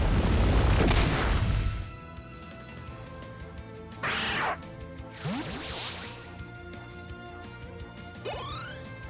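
A Voltorb uses Explosion in Pokemon Let's Go Pikachu: a loud burst opens and rumbles for about two seconds. Quieter whooshing sweeps and electronic game effects follow.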